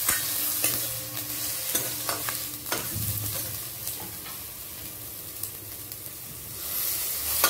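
Red chillies, curry leaves and tomato sizzle in hot oil as a dal tadka tempering is stirred, a steady close frying crackle with scraping stir strokes and no talking.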